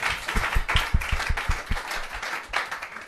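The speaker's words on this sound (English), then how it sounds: "Round of applause, please." An audience at a live concert claps in a brisk, uneven burst of applause, moderately distant and fairly faint.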